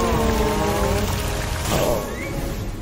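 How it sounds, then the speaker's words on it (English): Water hose from the ST-3000 rescue truck spraying onto a fire, a steady broadband hiss and patter like heavy rain, continuous and fairly loud throughout. "The water hose will stop the fire before it spreads."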